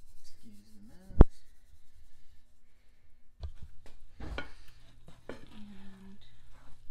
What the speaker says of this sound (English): We're gonna take our mixture of seasonings and we are going to add them into the ground beef.